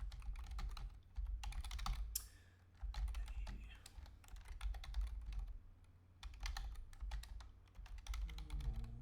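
Keys clatter on a computer keyboard as a terminal command is typed, in rapid close bursts separated by short pauses, fairly quiet overall.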